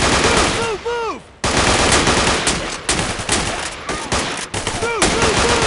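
Sustained rapid automatic gunfire in the shooter game Marine Sharpshooter 3, loud and dense for several seconds, with shouted radio-style voice callouts layered over the shooting.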